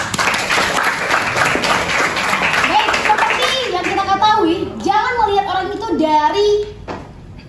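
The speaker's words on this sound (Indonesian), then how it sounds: "Beri aplaus terlebih dahulu." An audience at a high school debate applauds, steady dense clapping that fills the room for several seconds before fading, with a voice starting to speak near the end.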